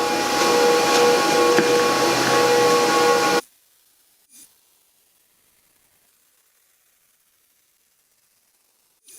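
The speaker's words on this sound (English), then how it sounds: "Here I'm just tacking the tower onto the flywheel with the MIG welder." A MIG welder crackles and hisses steadily for a few seconds while tack welding a steel tower onto a flywheel, then stops, leaving near silence broken by a couple of faint clicks.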